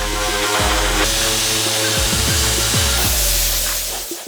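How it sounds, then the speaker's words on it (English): Metal body panel being sanded with 80 grit film-backed abrasive, likely by a power sander, giving a loud, continuous droning grind with steady whirring and slight shifts in pitch throughout. "We're gonna go ahead and sand it, then we're gonna lead in some body filler."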